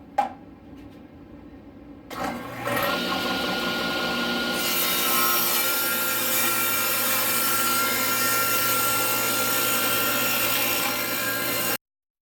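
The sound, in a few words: saw cutting wood for ukulele form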